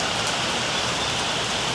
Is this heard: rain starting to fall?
yes